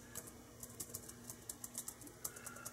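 Keys clatter on a Toshiba Satellite C50 laptop keyboard, quiet and close, in a quick irregular run of light taps with brief pauses under a faint steady hum.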